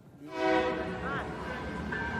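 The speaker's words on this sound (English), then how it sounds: "within yards of the freight trains that rumble by day and night" Freight trains rumbling past day and night within yards of homes in a Rio favela near an oil refinery; a broad, steady rolling roar with a brief horn-like tone rising above it.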